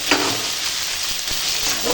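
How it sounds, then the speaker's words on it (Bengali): Close, steady sizzle of brinjal and pumpkin frying in hot oil with ground garlic and cumin paste, with soft scraping stir strokes throughout. "মশলার সঙ্গে আনাজটা একটু ভাজবো"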